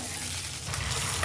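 Mint, curry leaves and spices frying in a hot pan, giving a steady, close, even sizzle that carries on without a break and with no voices over it.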